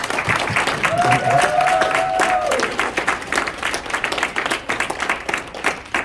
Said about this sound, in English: one round of applause for Travis for throwing this all together